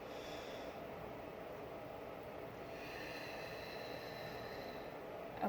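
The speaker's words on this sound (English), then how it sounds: "You want to inhale through your nose and then exhale." A person doing diaphragmatic breathing, a long audible inhale through the nose followed by a slow exhale, soft and close with a faint steady background hiss.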